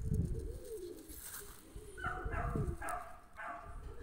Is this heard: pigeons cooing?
yes